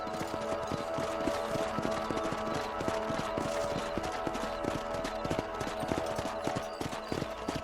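Horse hooves clip-clop steadily in Red Dead Redemption, a continuous rhythmic trot of closely spaced, moderately loud hoofbeats over a dense game soundscape, with no speech.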